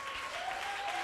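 A church congregation at a Sunday morning service breaks into sustained applause, a dense, steady clatter of many hands over a faint held tone.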